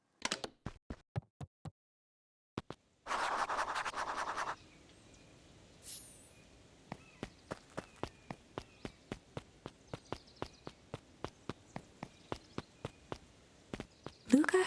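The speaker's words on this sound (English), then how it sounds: "Luca heard a group of footsteps approaching." Footsteps approaching in the video game Beacon Pines: a run of sharp, evenly spaced steps, a brief burst of noise, then a long steady series of footfalls growing slightly louder, with no talking.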